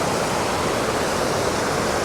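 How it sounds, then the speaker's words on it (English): Rushing whitewater river in Squamish, BC, a steady, dense roar of churning water heard close and alone. "it is a very popular river for whitewater kayakers"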